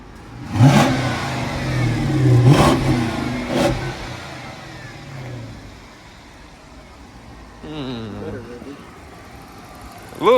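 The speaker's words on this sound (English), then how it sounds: "Give it a quick few revs." A Dodge Charger R/T engine is blipped through a few quick revs, with three sharp rising bursts early on and a later swell, heard close by with people talking over the engine.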